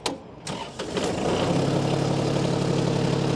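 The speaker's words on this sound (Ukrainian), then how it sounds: "Трактор працює перфектно" A 2015 Kubota FT25 tractor engine turns over and catches, then settles into a steady, even idle that runs on alone at close range.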